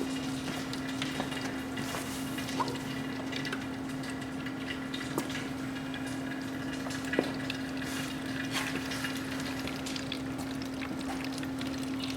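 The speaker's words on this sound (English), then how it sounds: "watch now as we start to pour just how much sediment comes out of this tank." Brown, sediment-laden water drains from a flushed water heater tank, pouring steadily in a continuous, even rush, with a faint hum running beneath and no voices.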